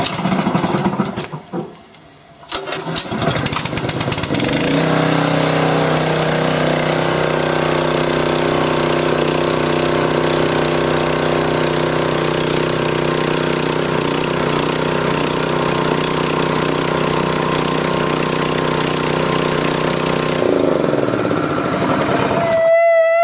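A Honda engine-driven water pump cranked after a brief quiet pause, then catching and settling into a steady close idle that runs on evenly before a change in pitch near the end.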